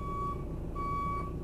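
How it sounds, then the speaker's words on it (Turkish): A Fiat Ducato's aftermarket rear parking sensor buzzer beeping inside the van while reversing slowly, a steady high tone broken by a short gap over a constant low engine rumble. "Sensörü buradan duyabiliyoruz."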